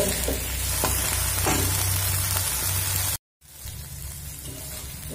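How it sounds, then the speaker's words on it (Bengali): Prawns and coriander leaves frying over medium flame in a pan, a dense, loud crackling sizzle with occasional stirring knocks, broken by a short silent gap before the frying resumes more softly. "দিয়ে খুব সুন্দর করে এবার আমি ভেজে নেব"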